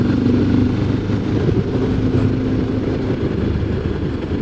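A CFMOTO 700 MT twin-cylinder adventure motorcycle cruises on the road in fifth gear, its engine holding a steady, gritty drone mixed with wind rush, moderately loud and without speech.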